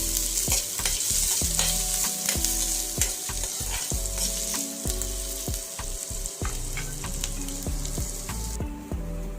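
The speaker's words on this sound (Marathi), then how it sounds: "बारीक आकारामध्ये कापलेला कढीपत्ता घालून घेऊ आणि लगेचच ही कापलेली मिरची घालून घेऊ आणि छान असं परतू देऊ" Curry leaves and chopped green chillies sautéing in hot oil for a bun dosa tadka, a steady loud sizzle with repeated stirring scrapes and spoon knocks throughout, no voices.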